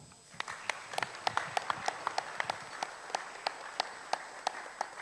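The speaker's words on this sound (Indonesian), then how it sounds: "Mohon tepuk tangan." Audience clapping at an evening event, a sparse scatter of sharp individual claps, fairly faint and irregular, with no talking over it.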